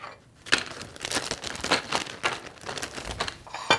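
Chocolate-sandwich cookies tumble into a heavy-duty zipper-top plastic bag, the thin plastic crinkling and rustling in a run of close, irregular bursts with no talking.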